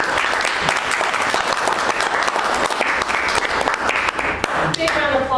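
Enthusiastic applause from a Toastmasters open house audience for a distinguished Toastmaster, a loud continuous wash of many hands clapping with scattered cheers and voices underneath.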